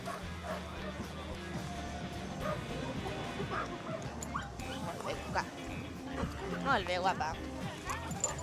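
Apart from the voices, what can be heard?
dog whimpering and barking in harness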